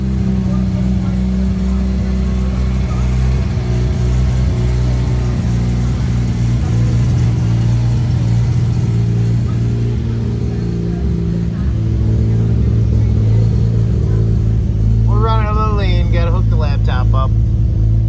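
A Mazda 13B rotary engine swapped into a BMW Z3 runs at a steady idle, with a low droning rumble that holds throughout and a brief burst of speech near the end.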